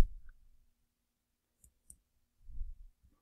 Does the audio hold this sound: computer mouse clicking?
yes